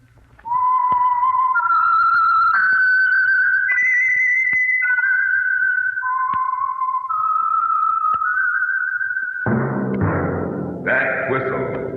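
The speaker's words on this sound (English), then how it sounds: "That whistle is your signal for the Signal Oil Program, The Whistler." A lone whistled melody, the theme of the 1949 radio program The Whistler, rises and falls through a slow, eerie tune, clear and steady, ending with a brief burst of orchestral sound.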